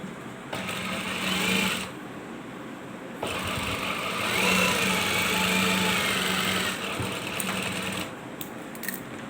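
A sewing machine stitches a folded, pressed buckram cuff for a men's kameez shirt, running in two bursts of steady rapid whirring with a short pause between, close and loud with no talk.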